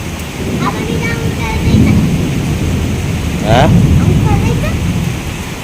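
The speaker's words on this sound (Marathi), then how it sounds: "कंटिन्यू पाऊस चालू आहे अर्धा तासच्या वरती" Heavy, continuous rain pours down with thunder rolling in two swells, one near the two-second mark and a louder one just before four seconds, over a dense, steady wash of rainfall.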